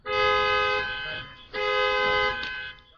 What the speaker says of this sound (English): pushing the lock button on remotes to see which cars they matched